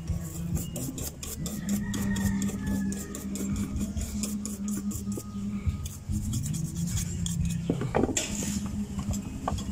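Circuit board from a GMA Affordabox being scrubbed clean with lacquer thinner, a steady close scratchy rubbing with a quick repeating back-and-forth rhythm, alone without talk.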